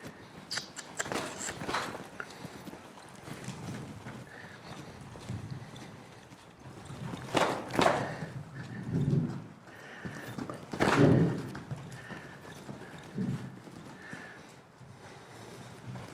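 Hooves of a paint horse clip-clopping across the ground, with a few louder steps standing out near the middle and late in the stretch against faint outdoor background noise.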